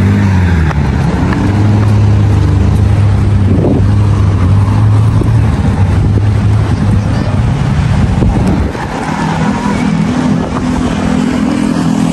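Strong wind buffeting the microphone in loud, continuous gusts, with a low engine-like drone underneath that eases off partway through.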